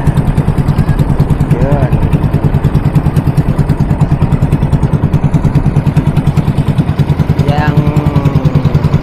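Small outboard boat motor running steadily near the shore at Little Boracay, Calatagan, a continuous loud engine drone throughout with people talking over it.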